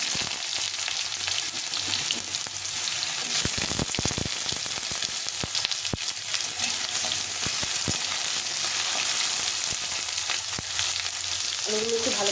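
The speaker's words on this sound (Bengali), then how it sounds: "আলুগুলো একটু ভেজে নেবো।" Cut potatoes fry in a pan over cumin seeds with a steady, close sizzle, broken by a few sharp utensil clicks and scrapes as they are moved around.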